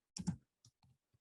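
A computer keyboard gives a few distinct key clicks close up in a quiet room: a quick double press, then three lighter, sparse taps.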